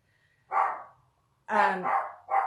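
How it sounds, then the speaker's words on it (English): Several dogs bark in short bursts, one bark near 0.5 s and then a rapid cluster of loud, close barks from 1.5 s to the end, with near silence between. "Sorry about the dogs."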